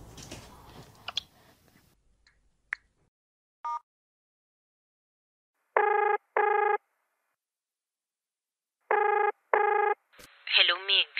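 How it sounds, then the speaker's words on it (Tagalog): A cellphone call goes out: after a voice and a few soft clicks and beeps, two pairs of doubled ringback tones sound clearly with pauses between, and a voice answers at the end. "Tawagan ko na nga. Sa may cellphone ko."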